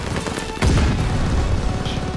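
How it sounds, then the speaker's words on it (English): A grenade explodes in an online shooter game, a sudden heavy boom that swells and rumbles on for a couple of seconds amid gunfire-like crackle, loud and close. "I died to a grenade, man."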